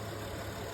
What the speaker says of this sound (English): I've of course got the vehicle on, engine running, air conditioning still on, the compressor's going